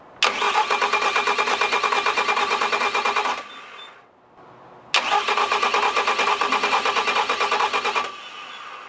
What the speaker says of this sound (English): I think it's time to see if it'll start.